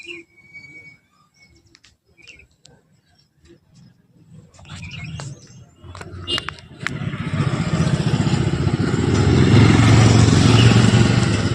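A motorbike starts up and pulls away for a ride home from a market, first as scattered knocks and birdsong, then as a steady engine drone that builds and stays loud.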